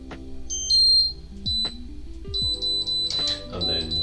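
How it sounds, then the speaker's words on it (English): Loud electronic beeps from a kitchen appliance sound in repeated bursts, some long and steady, others short, while water is put on to boil and someone talks over them. "the beeping's kind of loud, isn't it?"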